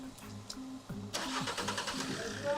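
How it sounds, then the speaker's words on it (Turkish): A car engine cranks and catches after a jump start from another vehicle's battery, the starter churning briefly before the motor fires and settles into a close, steady idle, with someone speaking over it. "şimdi marşa bas bakalım çalışacak mı araba"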